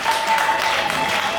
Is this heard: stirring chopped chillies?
no